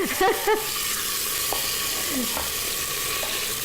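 Steak searing in olive oil in a pan gives off a loud, steady sizzling hiss with a few brief clinks near the start, close up and with no one talking.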